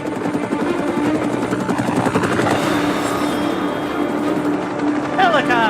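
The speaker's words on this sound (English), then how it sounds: "Helicopters, fantastic." Helicopters in Marvel's Midnight Suns game, a steady whirring rotor drone that fills the scene beneath game effects and a brief voice near the end.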